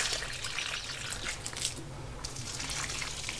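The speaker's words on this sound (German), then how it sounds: "Und nochmal eine Portion Wasser." Water poured from a container splashes onto garden plants in a home vegetable plot, a steady close trickle and patter lasting a few seconds with no voices.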